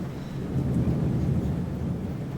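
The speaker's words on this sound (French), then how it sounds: "Vous devez entendre la pluie sur le plafond" Rain drums steadily on the roof of a truck cab during a thunderstorm, with low thunder rumbling underneath, a dense continuous wash of sound with no voices.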